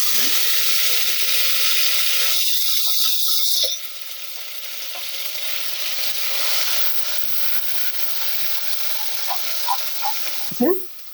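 Ingredients for Kolhapuri chicken drop into hot oil and set off a loud, steady sizzle. It crackles strongly at first, then settles into a softer, continuous hiss with a few light clinks near the end.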